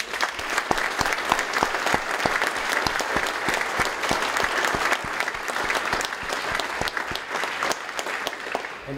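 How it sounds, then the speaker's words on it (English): An audience at a fire department awards and recognition ceremony applauds a retiring firefighter: dense, steady clapping that fills the room for the whole stretch without letting up. "let's give him a big round of applause."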